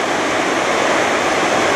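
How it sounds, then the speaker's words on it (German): Continuous rushing water from Espelandsfossen waterfall in Norway, a broad steady roar, unbroken for the whole moment. "Da fällt das Wasser auch nochmal so schön."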